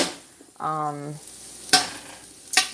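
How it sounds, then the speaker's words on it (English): Garlic sautéing in a pan for pumpkin soup gives a soft sizzle with a few scraping stirs, near and moderately loud, alongside a short tonal hum. "So I'm actually sauteing this so it can caramelize."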